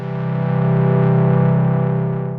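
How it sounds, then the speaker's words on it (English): A sustained low drone from a Behringer Model D analog synthesizer with overdrive and a touch of white noise from its noise generator, loud and unbroken, with no voices. "Maybe a little bit of white noise from the noise generator."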